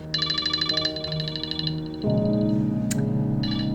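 A telephone rings at a round-the-clock helpline, its electronic ring repeating in a rapid warbling pattern for over a second, stopping, then starting again, over a steady tonal hum in the background.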